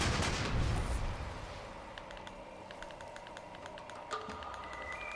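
Ship cannons in the naval game Sail Forth boom in a heavy opening blast that rolls and fades, followed by scattered lighter clicking impacts and a sharp report near the end.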